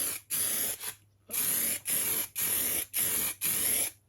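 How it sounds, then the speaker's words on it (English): An aerosol can of lacquer hisses in repeated short bursts, six or seven sprays with brief pauses between, close and loud, coating a model railway layout. "spray a nice coat of lacquer in the middle there"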